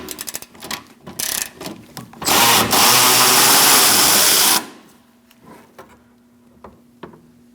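A ratchet on a long extension reaches through the bumper of a 2002-2006 Toyota Camry 2.4 to loosen a bolt. Loud, close mechanical clicking comes in bursts, then a sustained two-second whir, then a few fainter clicks and taps.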